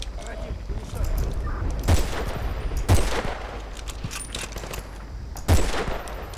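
UMP submachine gun fired from the hip in Battlefield Bad Company 2, several sharp bursts of automatic fire at irregular intervals over a noisy game battlefield background, with someone talking over it.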